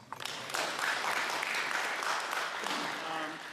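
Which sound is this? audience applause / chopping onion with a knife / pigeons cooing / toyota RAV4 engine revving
audience applause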